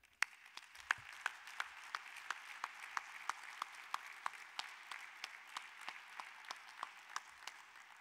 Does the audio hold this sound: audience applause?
yes